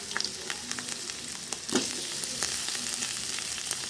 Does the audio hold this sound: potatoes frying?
yes